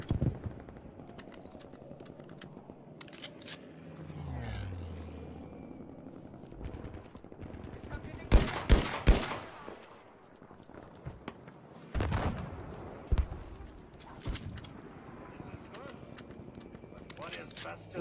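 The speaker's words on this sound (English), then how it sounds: "They're shooting at me." Gunfire in the video game Battlefield 5, with loud bursts of shots around the middle and later in the clip over a busy battle background.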